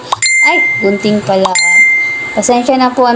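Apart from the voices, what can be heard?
phone message notification sound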